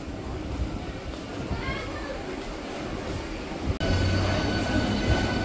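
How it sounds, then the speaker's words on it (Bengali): Pulling out of Digha station, the Digha–Panskura local train rumbles and squeals along the rails, with a sudden jolt partway through followed by louder, steady running noise; voices talk over it. "দীঘা পাঁশকুড়া লোকাল কিন্তু দীঘা স্টেশন ছেড়ে বেরিয়ে যাচ্ছে"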